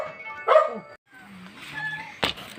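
A dog barks at a family first-birthday gathering with a couple of short, sharp yelps spaced apart over quiet background noise.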